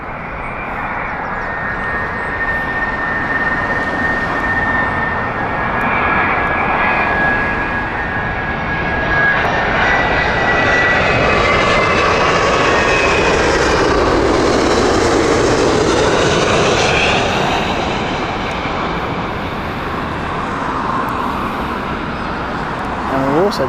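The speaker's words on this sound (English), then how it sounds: "Beautiful Dreamliner here from Virgin here. This is the Toronto flight from Virgin Atlantic." Virgin Atlantic Boeing Dreamliner jet at Heathrow Airport on the Toronto flight, a loud sustained engine roar that swells and fades as it passes, with a spectator talking throughout.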